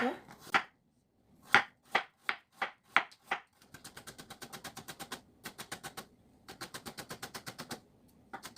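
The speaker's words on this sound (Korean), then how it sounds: "당근도 얇게 썰어서 조금만 넣어줄게요" A knife julienning carrot on a cutting board: a few slow, separate chops, then long runs of rapid, even, close knocks with short pauses between bursts.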